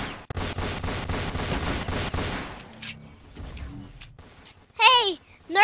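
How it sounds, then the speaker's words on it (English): Rapid gunshots in the Roblox game Fortnite Simulator ring out as a fast, loud volley for a couple of seconds, then a few scattered shots follow before a voice speaks briefly over the tail. "Someone tried to shoot at me."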